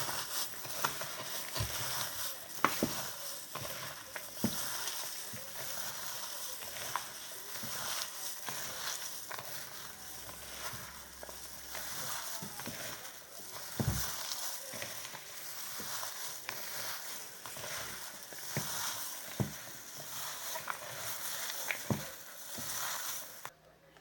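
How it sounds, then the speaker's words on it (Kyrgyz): Salted filling mixture for oromo being stirred, a steady rustling, sizzle-like churn with scattered soft clicks and scrapes, continuous and fairly close with no talking. "Эми жакшылап аралаштырып алабыз."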